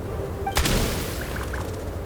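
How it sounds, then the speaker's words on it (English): A single gunshot rings out in Genshin Impact, a sharp, loud crack partway through followed by a fading tail over a faint game ambience, with no talking. "There's the gunshot."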